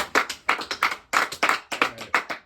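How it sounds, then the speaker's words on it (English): A small group of people clap in a short round of applause, the claps coming in quick uneven bursts, close and fairly loud, with no talk over them. "another round of applause for him"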